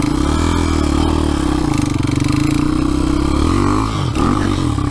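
A Honda dirt bike engine runs steadily and close by, a loud, rough idle with a slight dip and recovery near the end and no talk over it.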